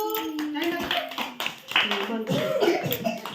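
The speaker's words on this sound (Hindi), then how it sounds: "जोर जोर ताली मारे सब" A group of children claps loudly in rhythm during a storytelling and acting activity, sharp repeated hand claps mixed with children's voices speaking and chanting over them.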